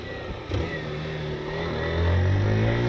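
A 160 cc motorcycle ridden through curves on asphalt gives a steady engine drone that climbs in pitch and loudness as it accelerates, recorded close and continuous.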